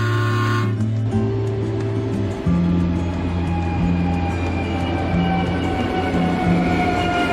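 A train runs between stations with a loud, steady rumble close by, and low mechanical tones shift partway through.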